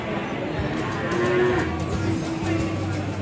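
Calves at a livestock sale moo with low, drawn-out bellows over constant background crowd noise and chatter.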